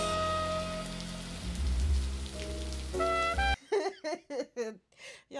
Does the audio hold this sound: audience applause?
no